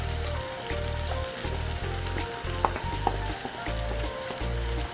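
Saltfish fries in a pan with a steady close sizzle, joined by a low pulsing rumble and a few sharp clicks from stirring.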